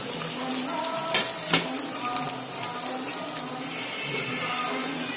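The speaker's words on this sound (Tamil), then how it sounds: "அது அப்படியே ஃப்ரை ஆகட்டும்." Idli pieces frying in an oil-filled pan for a chilly idli dish, giving a steady close sizzle with a couple of sharp crackling pops early on and no talk.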